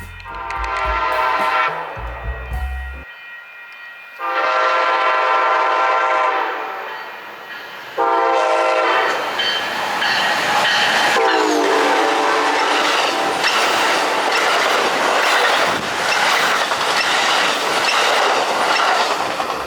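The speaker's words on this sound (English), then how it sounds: "a third and final southbound Surfliner train makes its way" A southbound Amtrak Surfliner passenger train sounds several loud horn blasts in separate bursts, then rumbles past close by with rolling wheel noise and clatter that continues to the end.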